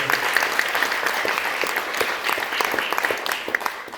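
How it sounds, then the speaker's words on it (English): An audience at a theater concert at the Ford Theater, Country Music Hall of Fame, claps warmly, a dense steady round of applause that lasts several seconds. "Let's have a hand for Dan up there"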